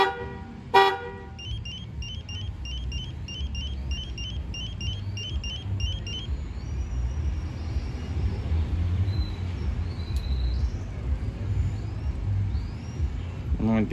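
A car alarm arms with a short horn chirp near the start, followed by a run of rapid electronic beeps over steady outdoor traffic rumble and background noise.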